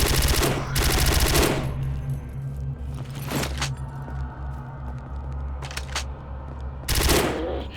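Bursts of light machine gun fire in the shooter RealRTCW, loud rapid volleys at the start and again at the end, with a few single cracks between them over a steady low engine-like drone.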